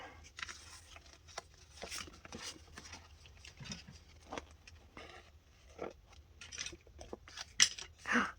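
Scissors trimming paper for a Happy Planner layout, a scattered series of soft close snips and paper rustles at low level in a quiet room, with no talking.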